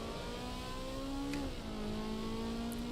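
A convertible's engine hums steadily at a moderate pitch in the racing game Assetto Corsa Evo, then briefly rises and drops as it is blipped for a downshift, with a faint whir underneath and no talk.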